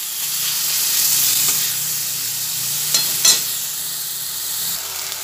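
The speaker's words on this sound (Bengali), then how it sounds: "এরপরে কিন্তু তেলের মধ্যে ভালো করে ভেজে নিই।" Onion, ginger and garlic fry in oil in a wok, giving a steady bright sizzle with soft stirring scrapes and a couple of sharper clatters partway through, close and without speech.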